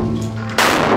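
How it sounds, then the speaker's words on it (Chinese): Mercury fulminate set off by a detonator in a room bursts with one sudden loud bang about halfway through, following a quieter low rumble, with no talking. "随着一声爆炸，这次雷酸汞被成功引爆"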